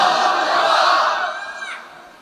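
A large crowd at an Islamic mahfil in Noakhali roars a loud, sustained collective takbir response, a dense massed shout that holds strong and then tapers off near the end.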